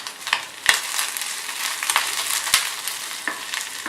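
Precooked beef for Kerala-style beef thattikkoottiyath sizzles and crackles in a hot pan, with a dense, steady frying hiss punctuated by sharp scraping knocks as it is stirred up close. No one speaks.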